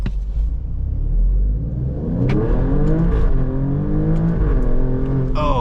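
An Alfa Romeo Stelvio Quadrifoglio SUV accelerates on a race track, its engine rumbling loudly and climbing steadily in pitch through the gears, close and continuous with no talk over it.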